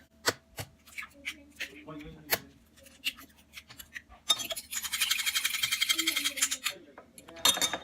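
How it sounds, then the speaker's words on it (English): Three eggs whisked in a bowl give rapid, steady clinking for a few seconds, after scattered taps and knocks, close by. "we'll just go ahead and whisk the eggs"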